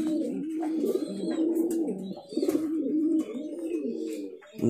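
Fancy pigeons cooing close by, overlapping throaty warbling coos in an unbroken chorus, with faint higher chirps and small bumps scattered through.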